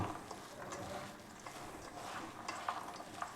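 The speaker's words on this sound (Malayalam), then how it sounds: "ഇനി കൈ കൊണ്ട് കറക്റ്റ് ഇങ്ങനെ കുഴയ്ക്കുക." Hands knead and mix parippu vada dough, making soft, moist squishing and pressing sounds in an uneven rhythm, close but faint, with no voices.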